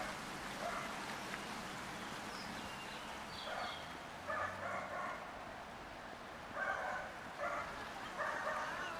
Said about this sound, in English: I'm listening to the dogs barking.